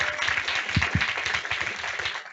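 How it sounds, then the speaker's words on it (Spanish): An audience at a panel on domestic workers' rights gives a dense, steady round of welcoming applause, moderately loud and continuous, with a few louder individual claps standing out. "démosle un aplauso de bienvenida"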